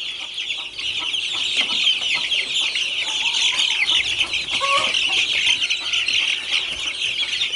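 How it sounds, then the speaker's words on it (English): Young chickens chirp densely and continuously among a flock of about 300 birds, with roosters clucking nearby, loud and close, and no talk. "That little chirping you just heard was the boys acting like boys. They're roosters."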